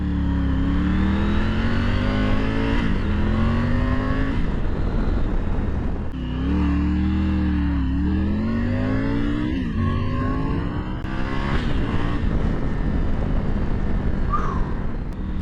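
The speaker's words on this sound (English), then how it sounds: "I like the power delivery on this bike quite a bit" A 2023 Triumph Tiger 900 GT Low motorcycle engine hums continuously while riding, rising and falling in pitch through gear changes, with wind noise over the steady drone.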